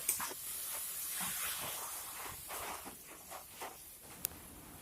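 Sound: water added to drumstick and dried fish curry in pan

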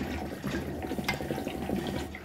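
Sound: air blown through rubber hose tube making bubbles in water can

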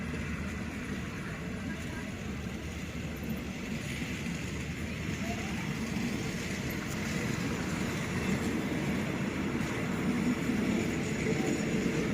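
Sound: rapid train 172 departing Ratchaburi station

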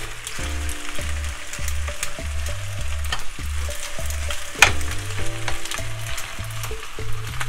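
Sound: corned beef frying in pan for pasta

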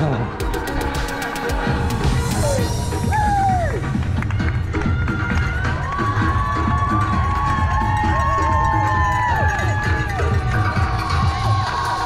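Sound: crowd cheering runners at London Landmarks Half Marathon

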